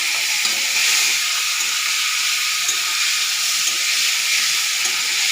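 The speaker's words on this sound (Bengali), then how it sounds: "চিংড়ি মাছটা দিয়ে দিলাম আগে" Shrimp frying in hot oil with black cumin gives a steady, bright sizzle and hiss that holds evenly throughout, with no one talking.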